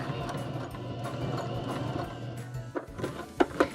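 Baby Lock Joy sewing machine stitching a buttonhole bar tack, a steady low mechanical whir with rapid needle clatter, ending in a couple of sharper clunks.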